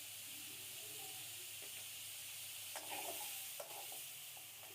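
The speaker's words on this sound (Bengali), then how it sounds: "এবার সবগুলো সবজি একটু নাড়িয়ে চাড়িয়ে দিয়ে দেব" Vegetables for noodles are stirred in a hot pan, with a quiet, continuous sizzling hiss and a couple of brief utensil scrapes against the pan.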